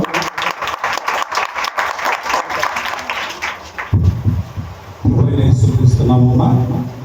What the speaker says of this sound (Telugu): ఒకసారి అందరం క్లాప్స్ వద్దాం